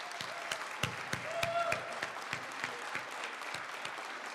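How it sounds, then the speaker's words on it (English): Scattered applause from an audience, with distinct individual claps ringing out irregularly over a softer background of clapping. "How about another round of applause for both Kevin and Greg?"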